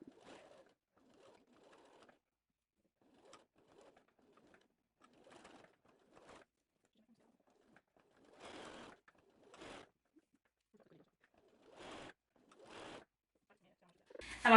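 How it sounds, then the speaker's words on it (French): A sewing machine stitches a fabric bum bag along a 1 cm seam, heard as a few short mechanical bursts separated by quiet pauses with faint handling rustles. "Puis on va aller le coudre à 1 cm."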